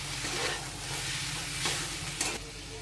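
Fried spices, capsicum, onion and unfried tomato being stirred together in a hot pan, a steady close sizzle with scraping strokes of a spoon and a brief sharper scrape near the end, no talking.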